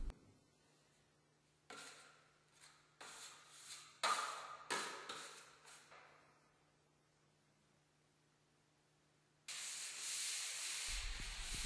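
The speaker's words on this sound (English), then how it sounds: "As you do your final sanding" Short scraping strokes of sanding drywall joint compound come in quick bursts, followed after a pause by a steady, loud hiss.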